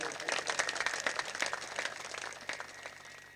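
A crowd at a religious storytelling gathering applauds at a moderate distance, dense clapping continuing steadily throughout.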